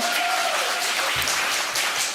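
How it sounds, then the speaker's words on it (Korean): A congregation in a Korean church service clapping enthusiastically to welcome newly registered members, a dense, even wash of applause with a faint lingering tone early on and a low thump partway through. "박수 한번 크게 쳐주세요"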